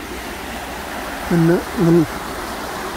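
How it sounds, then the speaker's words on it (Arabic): Trümmelbach Falls roars as a constant broadband rush of water, with a voice cutting in briefly over the spray. "شلال ترملباخ"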